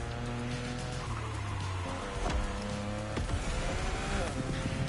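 A 2,000-horsepower car in The Crew Motorfest racing game drones with an odd, strange-sounding engine note. The pitch rises and drops through shifting revs, with tire and road noise over a loud, constant bed of sound.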